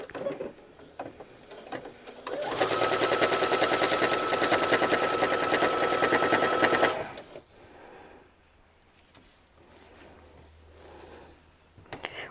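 A sewing machine chain-pieces quilt squares with a 3 stitch length, running in one steady, loud, continuous burst of rapid stitching for about four seconds, then stopping into quiet room tone.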